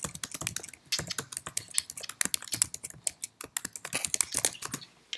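Fast, uneven typing on a computer keyboard while writing a status update, with dense clusters of close, crisp key clicks and short pauses between bursts.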